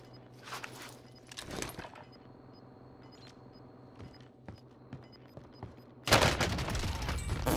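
Pistol fire from the Sykov in a shooter video game, with rapid cracking volleys early on, scattered lone shots, then a dense loud burst of gunfire near the end over game ambience.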